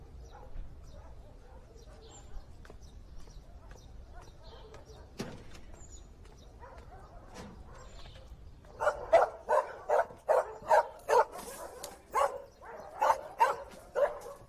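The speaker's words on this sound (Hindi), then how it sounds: "ओके ओके, भौंको मत।" A dog barking in a quick run of repeated, fairly close barks that start partway through after quieter ambient noise.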